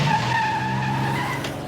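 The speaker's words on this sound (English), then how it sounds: "Peter accidentally backs his pickup truck into Quagmire's car" In a Family Guy cartoon scene, a pickup truck backs into a car with a short, loud tire squeal over a steady engine note, heard alone without talk.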